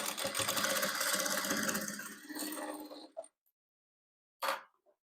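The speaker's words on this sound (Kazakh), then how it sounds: "Тіккен қатарға осылай тігіп тастаймыз." A sewing machine stitches a row of a rhombus-pattern patchwork quilt, running in a fast steady whir for about three seconds, then stopping into silence before one short final burst.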